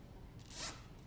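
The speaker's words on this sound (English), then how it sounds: "go ahead and take and zip tie a section off" A zip tie is pulled tight around a section, giving one quick, faint ratcheting zip in an otherwise quiet moment.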